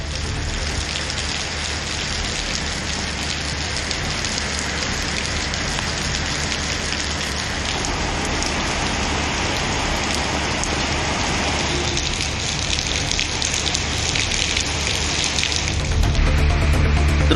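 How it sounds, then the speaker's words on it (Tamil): Heavy night rain with wind around Arani in Tiruvannamalai district, a dense, steady hiss of downpour that continues throughout and grows slightly louder and more rumbling toward the end, with no voices. "காற்றுடன் பலத்த மழை பெய்தது"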